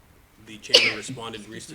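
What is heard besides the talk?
a person sneezing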